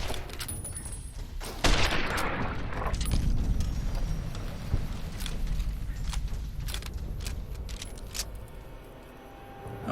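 Rapid bursts of gunfire from Fallout: New Vegas crackle close and loud, with overlapping shots and sharp cracks over a dense, rumbling battle din throughout.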